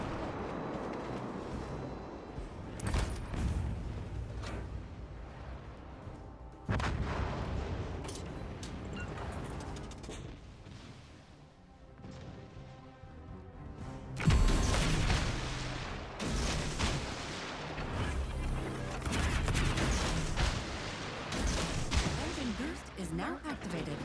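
Naval gunfire in World of Warships Legends, heavy booming salvos and crackling shots rolling through dense game ambience, with sharp loud blasts breaking in partway and repeated fire after, under occasional talk.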